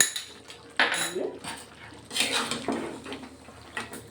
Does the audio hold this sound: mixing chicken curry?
yes